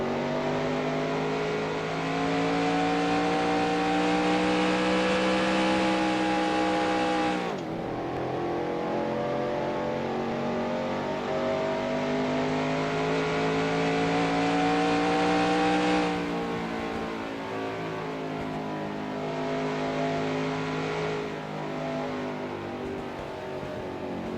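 Race car engines in NASCAR Racing 2003 at Atlanta hold a loud, steady high-pitched drone, with two sharp downshift drops before climbing again, running alone with no voices.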